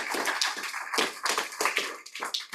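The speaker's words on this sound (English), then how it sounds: "Big round of applause, everybody" A small group at an astronomy society meeting claps after a talk on black holes and dark energy, with separate, uneven hand claps close by that rise and fall in loose bursts.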